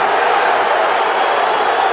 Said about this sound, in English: the crowd baying for a late tackle after Dylan Lades had made the kick